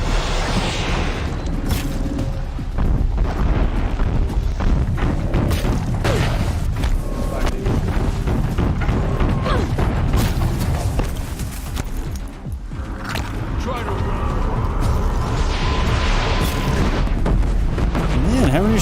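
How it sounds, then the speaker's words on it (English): Cannon fire in the Horizon Zero Dawn video game booms repeatedly amid dense, chaotic battle noise, loud and close, with game music and effects layered throughout. "Man, how many shots is this cannon gonna take?"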